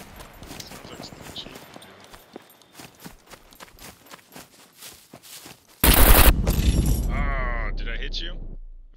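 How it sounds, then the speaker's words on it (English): Rapid gunfire in the video game Scum, a fast string of sharp shots followed by a sudden loud blast and a sustained roar, with speech mixed in. "someone's trying to snipe me. The big boy sniper."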